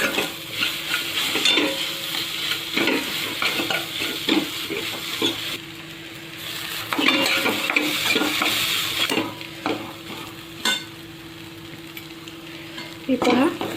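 Potato vegetable filling for vada pav sizzles and fries in a pan while being stirred, with steady hissing broken by scraping stirs and brief pauses, loud and close.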